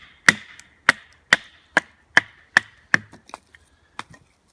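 A Battlehorse Dutchman knife chops into a knot in wood with about seven sharp, evenly spaced strikes, each loud and close, trailing off into a few lighter taps near the end.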